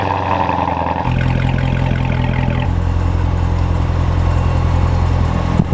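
A Corvette Z06 with a 650-horsepower engine runs steadily with a deep, constant mechanical drone that holds close and loud throughout, with no talking.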